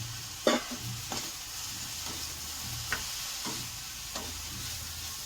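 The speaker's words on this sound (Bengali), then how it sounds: "দিয়ে এখানে টমেটো ধনে পাতা কুচি দিয়ে নেড়ে ছেড়ে দেবো" Turmeric, tomato and chopped coriander stirred in a hot pan: a soft continuous sizzle with a handful of distinct spoon scrapes and taps spaced a second or so apart, close up and without speech.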